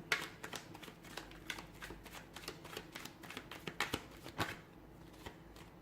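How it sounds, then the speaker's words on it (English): Playing cards being shuffled up close, a steady run of quick riffling snaps and soft slaps with no talking. "Give the cards a shuffle"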